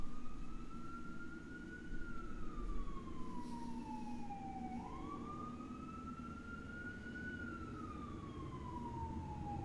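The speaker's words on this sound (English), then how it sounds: "I'll let the sirens pass." An emergency vehicle siren passes nearby, wailing in long rising and falling sweeps over a steady low rumble of road traffic, loud and continuous throughout.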